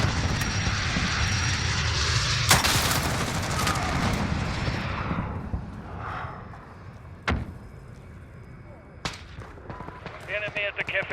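A VTOL aircraft roars through a Call of Duty-style multiplayer match, its loud engine drone dominating before fading, broken by sharp gunshot bursts and commentary speech.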